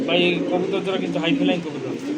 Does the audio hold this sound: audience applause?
no